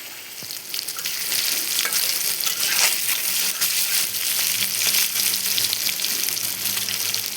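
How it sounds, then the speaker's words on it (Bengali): Soya chunks frying in soy sauce in a pan over low heat, a continuous close sizzle with occasional scraping and bubbling, no voices. "আমি জালটা কমিয়ে এসবগুলো আস্তে আস্তে ভাজবো ভালো করে"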